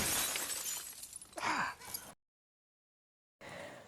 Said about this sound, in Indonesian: Kincaid langsung memecahkan jendela kaca mobil itu dengan menggunakan tangannya hingga membuat tangannya berdarah